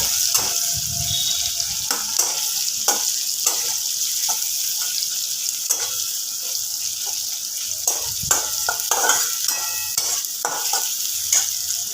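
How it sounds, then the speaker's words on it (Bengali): Chopped onion frying in a pan, a steady bright sizzle running throughout with repeated clacks and scrapes of a spatula stirring, close and fairly loud, no talking. "এর মধ্যে কিছুটা পেঁয়াজ আমি ভেজে নেব"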